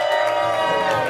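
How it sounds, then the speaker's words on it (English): A live event audience cheers and shouts wildly in a dense, sustained roar, loud and close. "once again, the crowd went wild."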